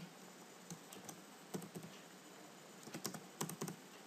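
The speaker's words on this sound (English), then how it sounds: "open your browser any browser and in new tab type http" Keys tapped on a computer keyboard in scattered quick bursts of clicks, close and fairly quiet over a steady background hiss, with no voices.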